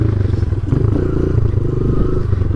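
A motorcycle engine rumbles loud and close, revving hard and steadily as the bike is popped up into a wheelie from a dead stop.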